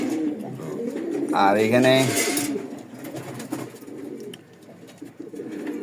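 Imported breeding pigeons, a newly paired couple, coo in a loft with a rolling burst of cooing midway, over a steady bed of soft murmuring and nearby talking.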